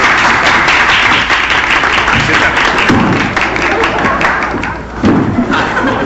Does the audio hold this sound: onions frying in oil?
no